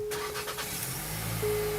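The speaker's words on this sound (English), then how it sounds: "when you get in the car and start it up" A 2025 Nissan Kicks engine turns over and settles into a smooth idle, a short close starting burst followed by a steady low hum with a faint tone running through.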